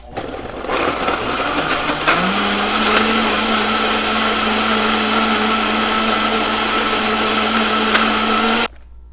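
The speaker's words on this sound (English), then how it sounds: "Once you've got all your ingredients in your Vitamix or your blender, go ahead and turn it on." A Vitamix blender making a smoothie whirs loudly and steadily for several seconds, its motor pitch rising as it spins up, then cuts off abruptly.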